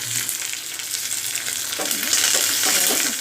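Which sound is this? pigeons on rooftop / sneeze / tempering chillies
tempering chillies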